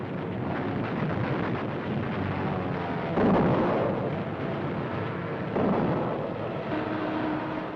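Dense, continuous anti-aircraft gunfire roars from many naval guns on cruisers and destroyers at once, heavy booming bursts layered into a steady din, with a couple of louder surges.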